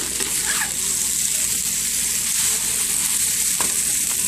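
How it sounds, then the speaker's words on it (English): Chow mein noodles with beef and tofu stir-frying in a hot pan, a steady close sizzle with occasional scrape and toss sounds from stirring, continuous throughout. "my food's cooking"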